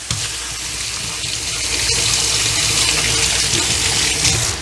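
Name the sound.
washing hands under running tap water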